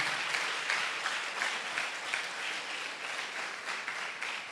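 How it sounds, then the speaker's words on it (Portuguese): Congregation applauding together in a church, a dense steady wash of many hands clapping throughout with no talk over it. "Aplauda ao Senhor nesta noite, nesta manhã"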